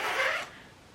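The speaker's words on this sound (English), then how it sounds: "this is how the zipper will open." Zipper on a bag sewn from a transformed jacket pulled open in one quick, close rasp lasting under half a second, then quiet.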